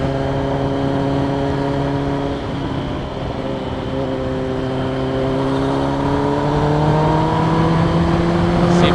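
A Honda CBR 650R sport motorcycle passes close by, its four-cylinder engine note holding steady then rising in pitch as it accelerates away, loud and continuous with no talk.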